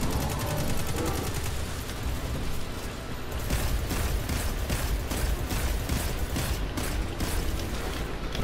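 Rapid automatic gunfire from a weapon in the video game Destiny 2, a dense stream of close shots with mechanical clatter, continuing steadily with brief shifts in rhythm.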